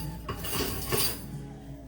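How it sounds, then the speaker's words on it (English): Roasting vegetables, including fennel, get flipped around on a metal baking pan, giving a few close clinks and scraping clatters over quiet kitchen background. "flip these veggies around"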